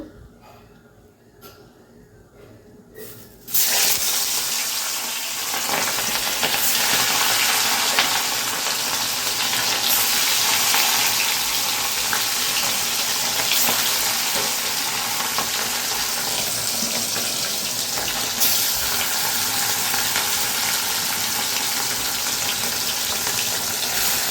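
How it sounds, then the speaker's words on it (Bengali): Fish drop into smoking-hot oil in a kadai, and a loud, hissing sizzle bursts up suddenly a few seconds in. The frying then carries on as a steady, broad crackle for the rest of the stretch. "কড়াইটা তেল গরম হয়ে গেছে এবারে মাছগুলো দিয়ে দেবো"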